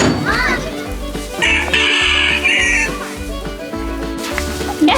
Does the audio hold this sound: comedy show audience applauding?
no